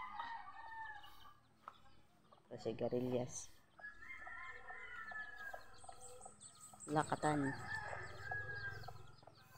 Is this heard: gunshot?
no